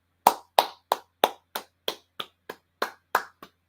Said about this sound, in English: We have to clap them when them do well.